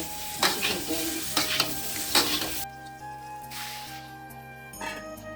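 Vegetables fry in a pan with cumin powder, crisp sizzling punctuated by several scraping stirs of a utensil, then quieter steady sizzling close by with no talk.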